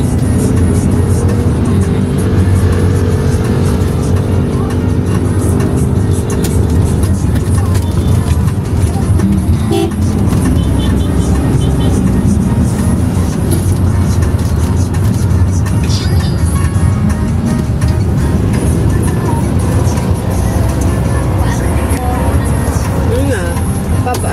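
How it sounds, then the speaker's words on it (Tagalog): Road traffic on a street beside a market in Taytay, Rizal rumbles continuously, with car engines and passing vehicles loud and close throughout while people talk over it. "Traffic dun ah."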